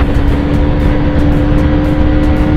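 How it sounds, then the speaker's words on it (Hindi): A KTM Duke 390 motorcycle racing against an NS200 roars at high revs, a loud steady engine drone with rushing wind noise, close to the microphone and without speech. "देख रहे हो 390 कैसे भाग रही है गाइस"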